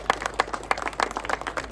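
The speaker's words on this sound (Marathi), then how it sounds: "या सगळ्यांसाठी जोरदार टाळ्या व्हायला पाहिजे." A small group claps briskly and unevenly for the children at a film trailer launch event, close and sharp individual hand claps with no voices.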